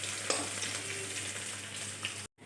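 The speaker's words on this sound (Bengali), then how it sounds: "ভালোভাবে একটু নেড়েচেড়ে ভেজে নেব" Sliced onion, garlic and torn dried red chillies crackle and sizzle in hot oil while a spatula stirs them, a steady close frying hiss for about two seconds before it abruptly cuts out near the end.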